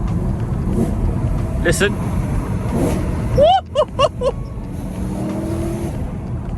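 BMW E92 M3 Competition Pack with a GTS gearbox mod driving on wet roads: a steady engine and road drone breaks into three or four sharp, rising rev blips as it quickly downshifts, then settles back. A voice speaks briefly.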